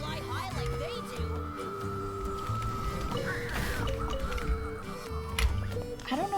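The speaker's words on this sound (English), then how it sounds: "I don't know if I like the Cuckoosaur's, like, voices. The sounds they make kind of scare me." Cuckoosaur creatures in a video game give strange croaking, caw-like calls with rising and falling squeals over game music and ambience, with a brief noisy burst midway.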